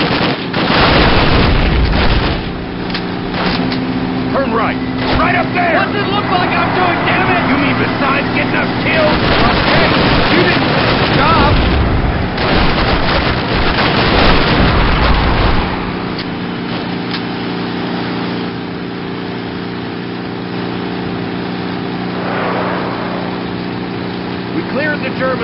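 A vehicle driven fast in Call of Duty on Route N13 in the American campaign, a loud steady engine roar with bursts of explosions and gunfire, easing to a quieter drone midway, while voices shout over it.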